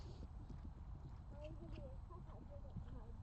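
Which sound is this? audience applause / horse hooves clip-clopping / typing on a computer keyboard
horse hooves clip-clopping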